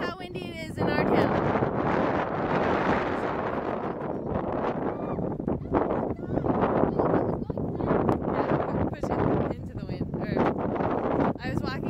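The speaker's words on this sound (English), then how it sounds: "This is how windy it is in our town." Strong wind roars and buffets the microphone continuously, loud and gusty throughout with rumbling bursts and no voices.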